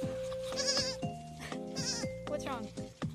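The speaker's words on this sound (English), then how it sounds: "Come here, more goats." Baby goats at a farm bleat repeatedly in close, high, wavering cries, overlapping one another, with people talking nearby.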